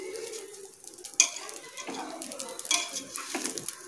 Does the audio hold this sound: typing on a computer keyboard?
no